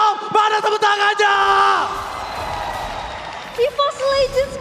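A crowd at a Mobile Legends esports playoff match roars and whoops loudly. Excited shouting voices rise in bursts, then fade into a murmur before flaring up again.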